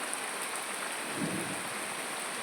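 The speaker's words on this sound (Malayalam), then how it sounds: "നല്ല മഴയായിരുന്നു കേട്ടോ" Heavy rain pours in a continuous, unbroken wash of drops, with a faint low rumble swelling briefly in the middle.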